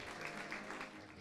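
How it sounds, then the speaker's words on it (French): An audience at a hypnosis conference applauds in a brief, soft, steady patter of clapping that sounds distant in a large hall, with faint voices beneath. "Et on peut les applaudir"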